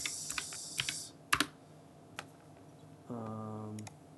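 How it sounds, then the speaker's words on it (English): Computer keyboard typing, a handful of scattered soft clicks and a brief cluster of keystrokes, faint and close, with other background sounds between. "Hold on, I'm gonna type in Xbox."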